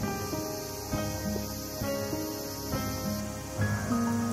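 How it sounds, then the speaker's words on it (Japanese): Cicadas sing on a summer day in the old town of Sawara, Chiba, a steady shrill drone that fills the whole stretch without pause, with faint tonal sounds layered over it. "夏の風物詩ともいえるセミの鳴き声"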